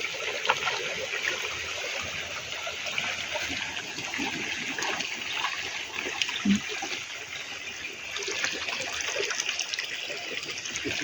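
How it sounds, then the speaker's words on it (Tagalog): Hot spring water gushes and bubbles up from below, a loud continuous rushing churn with steady turbulent splashing throughout. "grabe kayong bugwak sa tubig galing sa ilalim oh"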